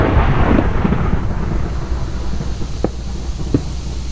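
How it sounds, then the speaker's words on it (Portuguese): A thunderstorm in the Minecraft video game, a loud rolling rumble of thunder fading into steady low wind and rain noise with a couple of faint cracks. "Está vindo lá tempestade."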